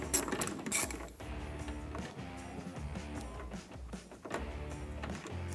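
An LED red lens taillight assembly is pulled free of its mounting pins on a 2020-2021 Jeep Gladiator, giving close plastic clicks, creaks and rattling mechanical handling noises with no talk.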